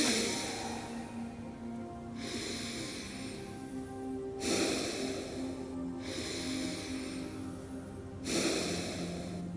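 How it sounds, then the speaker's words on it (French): Slow, deep breaths drawn in through the nose during a guided meditation, three long airy inhalations spaced a few seconds apart with soft exhales between, close and quiet over a faint steady background. "On va prendre 3 respirations profondes"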